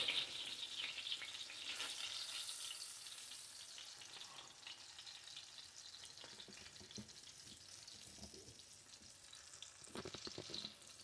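Whiting fish fillets fry in hot oil with a steady, close, bright sizzle that holds evenly throughout, with occasional louder crackles and pops near the end.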